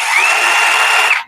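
A lithium battery chain saw cutting wood gives a steady, high electric motor whine, close and loud, holding evenly for about a second before cutting off abruptly.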